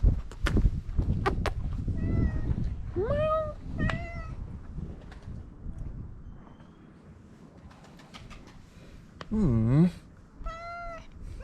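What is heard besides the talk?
cats meowing in a village street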